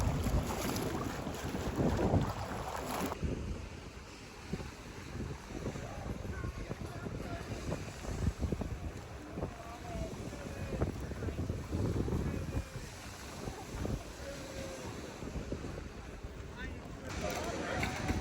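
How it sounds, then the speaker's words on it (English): Strong wind on Mackinac Island roars and buffets the microphone continuously, rising and falling in gusts, with water sloshing faintly underneath. "Still very windy, but that's really cool."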